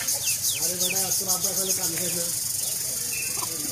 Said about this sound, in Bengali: এই যে দেখেন বাচ্চা মুরগি মাছ লিয়ে লাফায়।